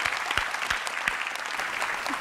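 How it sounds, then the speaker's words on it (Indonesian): Lively applause from a stand-up comedy audience, a bright, continuous patter of many hands with a few sharper individual claps standing out, fairly close and steady, with no speech. "Lucu banget tepuk tangan untuk Raditya Dika dulu lah."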